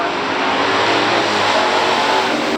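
1971 Ford Mustang 429 automatic drag racing a 1967 Chevrolet Impala SS at a pure stock drag race, a loud, steady roar of a big V8 at full throttle, close and sustained with no voices.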